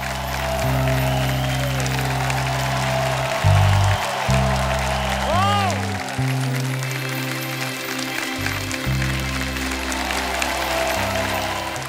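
A studio audience on The Kapil Sharma Show applauds as a guest comes on stage: a dense, sustained wash of clapping that runs loud throughout, alongside music.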